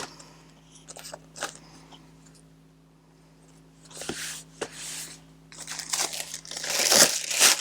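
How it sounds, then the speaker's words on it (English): Self-stamped tissue paper handled for a mixed media collage, giving soft crinkles and rustles close up, sparse at first and then building into denser, louder crumpling toward the end, with no talking. "this is just tissue paper that I've stamped myself."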